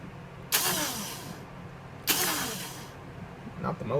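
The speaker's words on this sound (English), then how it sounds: "I'm gonna test the motor outside of the gearbox, or unattached." An airsoft gun's electric motor spins freely outside its gearbox in two short bursts of high whirring, each lasting about a second, with a quieter third burst near the end.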